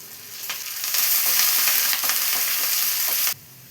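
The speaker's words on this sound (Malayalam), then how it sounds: "ഇപ്പോൾ ഉള്ളിയെല്ലാം ഇവിടെ ഫ്രൈ ആയി വന്നിട്ടുണ്ട്." Shallots and curry leaves frying in hot oil for a cauliflower curry, a loud, close, steady sizzle that swells then cuts off abruptly near the end, with no voices.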